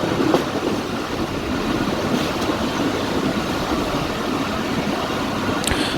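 The Jaffar Express passenger train runs at speed between Lalamusa and Jhelum in Pakistan, giving a constant heavy roar and rattle from inside with faint clicks of the wheels, steady and loud.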